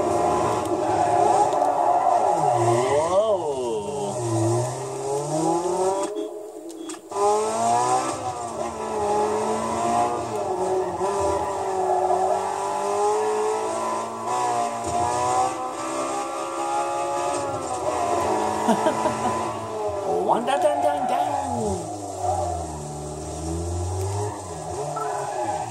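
A Honda Civic races in Need for Speed Underground 2, its engine revving loud and close, the pitch climbing and falling through repeated gear shifts, with a brief dip around the middle.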